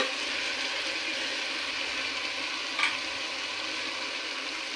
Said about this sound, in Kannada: ಚೆನ್ನಾಗಿ ಫ್ರೈ ಆಗಿ ಒಂದು 5 ನಿಮಿಷ ಫ್ರೈ ಆಗಿ ನಾನಿವಾಗ ಹೆಚ್ಚಿಟ್ಕೊಂಡಿರೋ ಮೆಂತ್ಯ ಸೊಪ್ಪನ್ನ ಹಾಕ್ತಿದ್ದೀನಿ